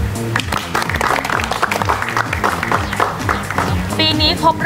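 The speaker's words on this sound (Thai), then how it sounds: "ก่อนอื่นขอให้ทุกคนปรบมือให้กับตัวเองหน่อยได้ไหมคะ" An audience at a club's eighth-anniversary event in Pattaya applauds itself, a dense steady clapping over loud background music and crowd noise, continuing throughout.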